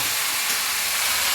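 Marinated mutton with tomato tipped into a hot pan gives a steady, loud broadband hiss and sizzle that holds evenly throughout.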